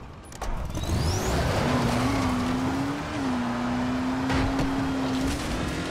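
A car drives steadily in Dying Light, its engine holding a sustained mid-pitched drone that rises slightly and then levels off, with a few brief knocks and hisses at the start and the engine continuing nearly alone.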